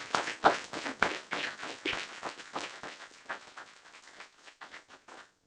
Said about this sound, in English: And Mrs. Herrick, if you don't mind standing for a round of applause.